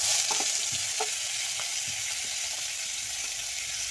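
Cauliflower and potato pieces coated in salt and turmeric stir-frying in a hot wok, with a steady loud sizzle and a few soft scrapes and knocks of a spatula throughout.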